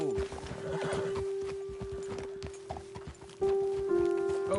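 Hooves of horses clip-clop in a steady walking rhythm in a video game, moderately close, with a sustained tonal hum and a brief music-like tone near the end.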